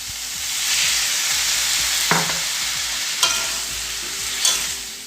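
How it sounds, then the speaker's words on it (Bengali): Spices being stirred and sautéed with a little water in a pan for a mixed vegetable dish, a steady sizzle broken by three sharp scrapes of the spoon against the pan. "এখন মশলাগুলো অল্প জল দিয়ে কষিয়ে নেবো"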